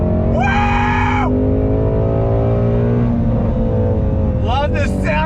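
The Voodoo V8 of a Shelby GT350R roars on a racetrack, a loud, sustained high-revving engine note heard from inside the car, with excited voices shouting and whooping over it.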